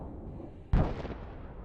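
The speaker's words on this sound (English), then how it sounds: "The powerful explosion means that a large stock of Russian munitions was eliminated." Large stock of Russian munitions exploding in a single sudden heavy boom over low rumbling background noise, followed by a rolling decay.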